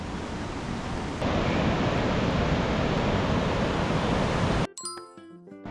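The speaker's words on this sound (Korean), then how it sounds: "지금 빨래터 물 흐르는 것만이야." Water rushes continuously at an outdoor washing place in Pokhara, Nepal, a broad steady hiss that grows slightly louder partway through, then cuts abruptly to a short stretch of bright, bell-like electronic tones at the end.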